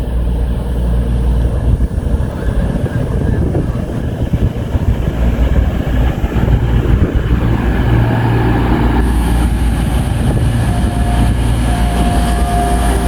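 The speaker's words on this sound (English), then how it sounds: "That's a freight train." A heavy freight train rumbles steadily through Doncaster station on the East Coast Main Line with a constant low roar and rattling, loud and continuous throughout.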